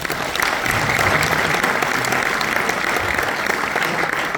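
Evening audience at a motorcycle adventure festival in the Alps claps for a partner, a dense, even round of applause, loud and sustained from start to finish.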